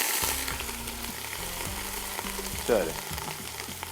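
Ginger and garlic frying lightly in a pan while Nihari is prepared, giving a steady close sizzle throughout with a brief louder stir or clatter near the end and a word spoken over it.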